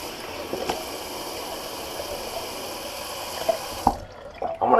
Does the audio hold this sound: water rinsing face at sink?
yes